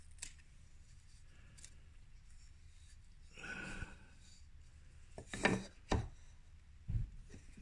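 Chisel chopping out dovetail pins in wood, with a few sharp close knocks and a brief scraping rub, quiet and separated by pauses.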